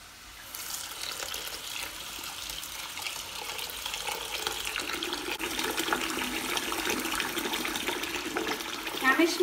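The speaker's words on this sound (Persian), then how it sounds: "اینو میذارم زیر شیر آب سرد" Cold tap water runs from a kitchen faucet over cooked chickpeas for hummus, a steady hissing splash that builds gradually and grows a little louder near the end.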